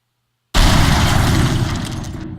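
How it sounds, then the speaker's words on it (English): A video game missile explosion effect bursts in abruptly after half a second of silence, a loud broadband blast that rumbles on and slowly fades. "Missile explosion."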